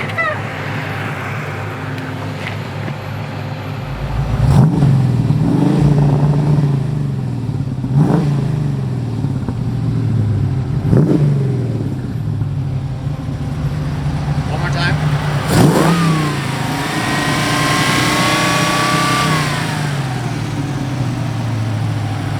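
A 1973 Ford Capri engine revs several times in sharp bursts over a steady rumbling idle, close by, with people talking at moments.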